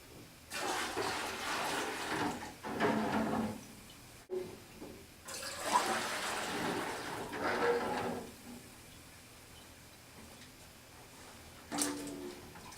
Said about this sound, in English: We're going to add the dirty water to the pots.